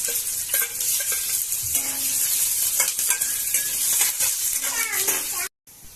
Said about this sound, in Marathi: आता त्यामध्ये लसूण टाकते आता मी कांदा टाकत आहे